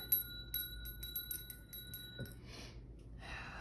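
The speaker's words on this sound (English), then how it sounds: "let's ring the bell here" A small bell rings with a sustained, clear tone that fades over a couple of seconds, heard close and alone in a quiet room, followed by soft rustling.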